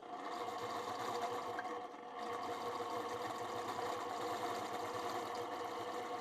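A sewing machine quilting a fabric panel runs in a steady, fast mechanical chatter, close and even, with a brief dip partway through before continuing.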